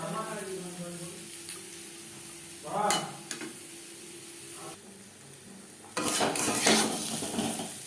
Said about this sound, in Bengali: আমি এখানে মশলা ধোয়া জল ব্যবহার করছি।